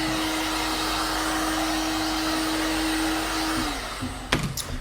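A loud, steady blower-type dryer roars close by while drying a leather car seat, with a constant hum that dips near the end and breaks off with a few handling knocks.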